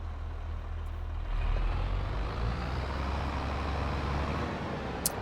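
A truck backs up in Farming Simulator, its engine rumbling low and steady, with a brief beeping or hissing burst near the end and no voices.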